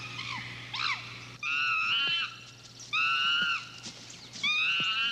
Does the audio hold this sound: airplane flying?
no